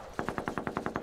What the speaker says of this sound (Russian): Там стрельба идет.